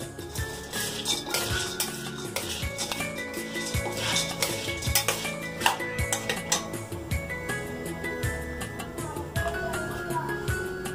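Mava ingredients, including kattha paste, being stirred and mixed in a bowl, with steady clinking and scraping of a utensil against the container throughout, busy and fairly close.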